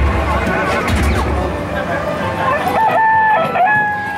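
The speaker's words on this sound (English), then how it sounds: "Look at that chicken clucking." Electronic chicken clucking and crowing from a Dizzy Chicken arcade ticket game, loud and steady over a noisy arcade hubbub with speech in the background.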